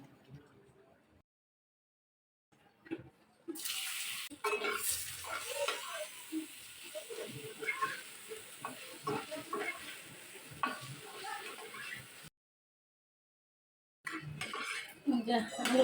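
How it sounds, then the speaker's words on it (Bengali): Potatoes fry in a pan for an egg-potato curry, giving a bright, steady sizzle with repeated scraping stirs and utensil clinks, close by, broken by brief pauses, with a voice talking over parts of it. "ডিম আলুর জন্য আলুগুলো ভেজে নিলাম"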